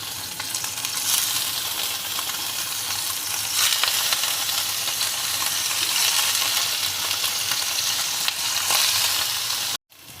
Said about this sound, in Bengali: এখন এগুলো ভেজে নেব।